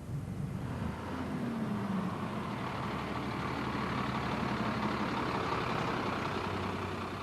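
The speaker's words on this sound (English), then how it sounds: "As the bus pulled up at her stop" A city bus pulling up at a stop in 1994, a steady low engine rumble and road noise that swells as it approaches, then idles on as a faint, constant drone.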